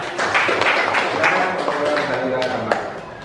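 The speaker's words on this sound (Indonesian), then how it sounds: "Kita berikan tepuk tangan untuk kelompok yang kedua." A classroom group claps for the second team after its presentation, a dense wash of hand claps running steadily throughout at fairly close range.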